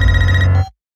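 Telephone bell ringing loudly and steadily for most of a second, then cutting off abruptly, a nod to the phone calls in the Scream horror films.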